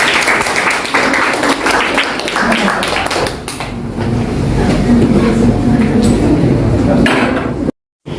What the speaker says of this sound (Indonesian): Silakan kita beri tepuk tangan untuk kelompok.